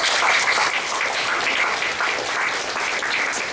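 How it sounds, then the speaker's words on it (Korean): An audience at a church gathering breaks into sustained applause, a dense, even patter of many hands clapping throughout, with no talk over it. "감사의 박수 한번 해주세요"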